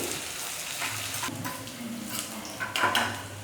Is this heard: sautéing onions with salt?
yes